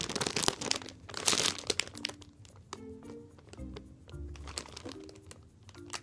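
Plastic packaging on a squishy toy bought at Elizabeth Center, New York, being handled and opened: close crinkling and crunching, loudest in bursts near the start, then softer rustles with a few faint tones in the background.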